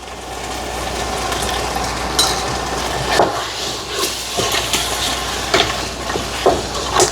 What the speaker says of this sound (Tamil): சூப்பராக வதங்கி கொண்டு வருது.